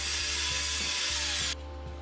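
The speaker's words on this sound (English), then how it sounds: "I could now set my stop on my miter saw and cut the whole thing to length with" A miter saw cuts timber to length for an outdoor beehive-style storage or compost bin: a loud, steady high whine of the blade running for about a second and a half, then dropping sharply as the cut ends and the motor winds down.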